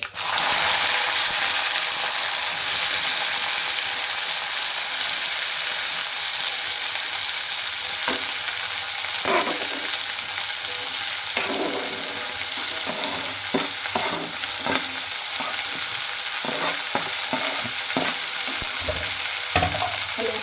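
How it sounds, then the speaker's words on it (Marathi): Shredded cabbage sizzles steadily in hot oil in a pan, a constant hiss broken by irregular scraping and clicking from stirring, with no voices. "तर आता पत्ताकोबी आहे ती टाकून घेऊया."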